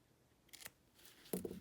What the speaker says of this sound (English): now when we trim this binding off